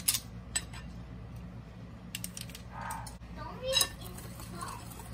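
A spoon stirs mochi waffle batter with baking powder in a bowl, giving scattered light clinks and scrapes against the rim over a soft, steady room background.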